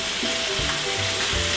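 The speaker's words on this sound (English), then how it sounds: "we're gonna let that cook for a few seconds till the garlic gets nice and brown" Pork chops and garlic sizzle hard in a hot pan, a dense, steady frying hiss with a few low bumps as the food is stirred.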